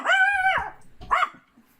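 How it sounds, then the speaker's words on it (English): Dogs bark at nightfall with a long, drawn-out harmonic yowl followed by a shorter bark, fairly close and alone without talk. "you hear the sound of dogs kind of barking as the night kind of draws in"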